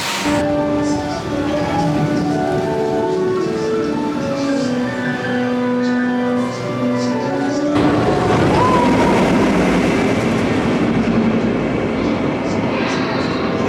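Velociraptor roller coaster at Paultons Park roaring along its track, a loud continuous rumble and rattle of the train that swells and shifts partway through, with no talk over it.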